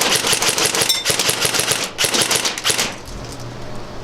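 An unsuppressed airsoft MP5 AEG fires in loud rapid bursts, two sharp automatic volleys separated by a short pause before the shooting stops.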